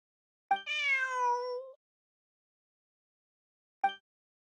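A cat meows in the Genshin Impact video game, one clear drawn-out meow followed by a short chirp-like call a few seconds later, close and alone against silence.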